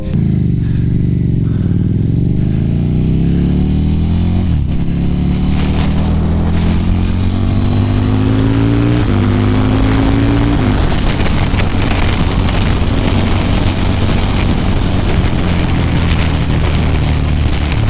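A KTM RC8 motorcycle engine rises and falls in rev, with loud, close, droning pitch sweeps up and down through the first half, then settling into a rough, steady roar with rattling wind noise.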